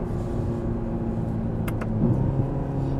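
Ferrari Roma in race mode, its exhaust rumbling steadily from inside the cabin with a low, deep drone and a slight rise in revs toward the end, no talking.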